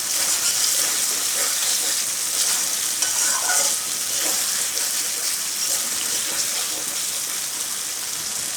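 Pointed gourd and paneer curry stirred in a frying pan, a steady close hiss of sizzling with scraping spoon strokes running throughout and no talk.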